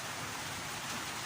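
Rain falling steadily, a dense even hiss of drops on surfaces, moderately loud and constant over a brief stretch with no voices.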